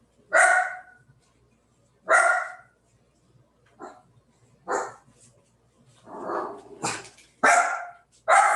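Two dogs bark in sharp separate bursts, loud and close, with pauses of about a second between them, followed by a few softer grumbling barks and then more loud barks close together at the end.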